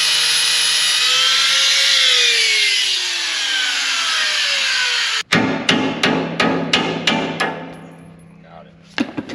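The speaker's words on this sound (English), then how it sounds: "We're gonna grind it smooth and try to hit it out with a punch." A roll pin in a hub is ground smooth with a loud, steady abrasive whine, then a punch hammers it out with a run of sharp metallic blows up close.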